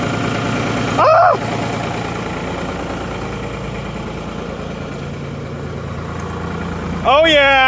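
A Ford backhoe's diesel engine idles with a steady low rumble throughout, while short excited voices break in at the start and near the end.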